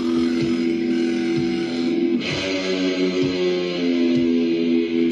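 An electric guitar plays a heavy, distorted riff with sustained low chords and rhythmic picked notes, loud and close, with no voices over it.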